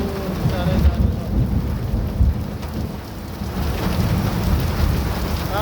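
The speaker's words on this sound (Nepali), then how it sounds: "ल हेर आमा असिना पानी हुरी गाह्रो छ हौ, साह्रै गाह्रो छ।" Heavy rain and hail pour down steadily during a storm, with low thunder rumbling throughout, loud and close, with no voices.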